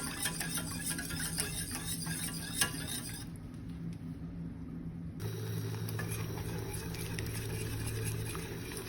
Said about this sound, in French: Il faut venir mélanger régulièrement.